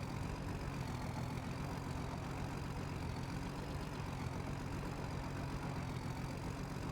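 A truck engine labors in Farming Simulator 22 while pulling a weight in first gear, a faint, steady, rough drone that holds an unchanging pitch throughout with no speech.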